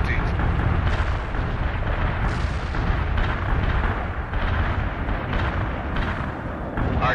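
Heavy artillery barrage in the video game World in Conflict, with dense, continuous rumbling explosions overlapping into a loud, sustained roar, with talk in the clip.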